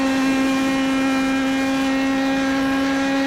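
IndyPro2000 open-wheel race car at Road America in iRacing, holding a steady, loud, sustained engine note at constant pitch through a flat-out section, with no talk.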